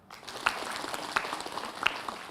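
Applause from an audience at an Islamic lecture show: a faint, diffuse wash of clapping with a few sharper claps standing out. It sounds somewhat distant and continues throughout.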